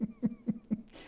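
Four short, evenly spaced coughs in quick succession, close by, followed by a faint breathy exhale.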